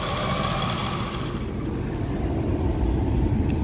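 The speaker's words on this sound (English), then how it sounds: "That AC compressor kicks on and that fan is ripping." A 2002 Jeep WJ engine runs with the AC compressor engaged and the hydraulic cooling fan roaring hard, a steady loud mechanical whir close by with no talk.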